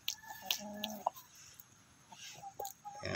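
Shamo chickens cluck in short, quiet bursts at close range, with a faint steady hum in the background.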